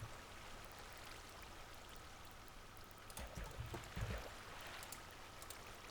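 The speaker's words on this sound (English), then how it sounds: "put water in the corners." Water flowing after being placed in Minecraft, a faint steady trickling stream with a slight swell of splashing near the end, no voices.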